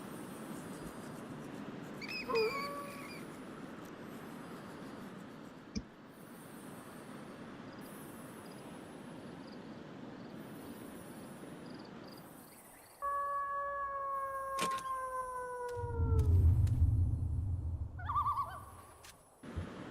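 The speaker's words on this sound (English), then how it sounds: "so all that howling and bat sounds you're hearing in the background are likely from" In The Sims 3 on a full moon night, a werewolf's long, wavering howl rises out of a steady ambient game hum midway through, after earlier faint hoot-like calls, with a low thump near the end.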